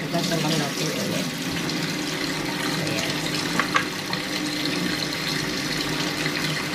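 Raw chicken rinsed under a running kitchen tap, a steady broadband rush of water splashing in a sink for the whole stretch, fairly close, with small knocks from handling and no talk over it.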